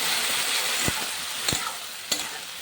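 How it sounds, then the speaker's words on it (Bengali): Poppy seed paste with eggplant and water being stirred in a pan, a steady bubbling sizzle punctuated by three sharp spoon knocks against the pan, close and with no speech. "বাকি দেওয়া জলটা দিয়ে ভালোভাবে নাড়িয়ে নিচ্ছি"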